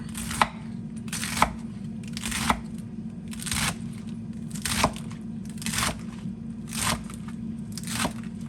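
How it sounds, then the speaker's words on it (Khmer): Vegetables, including carrot, being chopped with a knife for a chicken rice soup, a slow steady series of about eight crisp close chops roughly one per second over a constant low background hum, no voices. "បន្លែយើងហាន់ទៅ"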